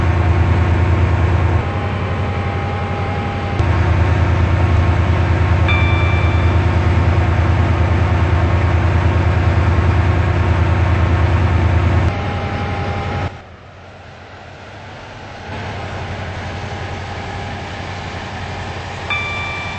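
A Class 68 train runs in the Stepford County Railway video game on a Stepford Connect service, with a steady low rumble and hum that shifts in level several times and drops sharply partway through before the running noise returns.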